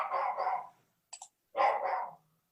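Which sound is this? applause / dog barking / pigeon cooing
dog barking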